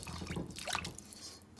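Water is poured over a cast iron pan in a kitchen sink, making a soft, close splashing trickle with a few drips that fade after about a second.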